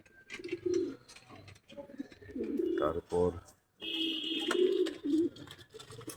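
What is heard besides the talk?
doves cooing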